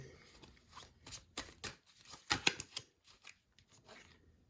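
A deck of gold oracle cards is shuffled by hand in quick, soft riffling bursts, several separate flurries at close range in a quiet room.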